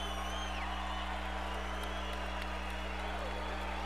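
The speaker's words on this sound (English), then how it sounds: "Crowd's on its feet in the Barclays Center." Boxing crowd at the Barclays Center in Brooklyn on its feet after the Tavoris Cloud vs Bernard Hopkins fight, a steady roar of cheering, whoops and applause with a constant hum underneath.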